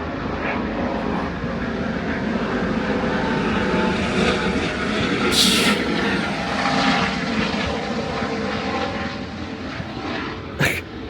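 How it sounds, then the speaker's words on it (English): A helicopter passes overhead in an open outdoor cemetery setting, its engine and rotor noise a steady, broad roar that holds loud for the whole stretch with no talking over it. "That was a helicopter that came flying over."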